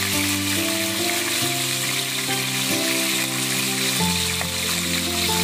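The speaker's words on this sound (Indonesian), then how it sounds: "Lalu kita goreng sayap ayamnya ya" Chicken wings sizzle and crackle loudly as they fry in hot oil in a wok, a constant busy hiss with faint musical tones running underneath.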